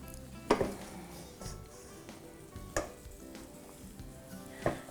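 A rice and bean vegetable stuffing for Tex-Mex stuffed peppers is stirred in a pan, with a soft scraping sizzle and a few distinct spoon knocks against the side at intervals, close and quiet, without voices.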